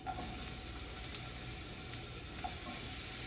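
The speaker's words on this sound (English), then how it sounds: "We're gonna let that heat up a little bit, and we're gonna just add our pepper" Bell pepper sizzles in hot avocado oil in a pan, a soft, steady crackling fry with occasional stirring clicks, quiet and continuous without speech.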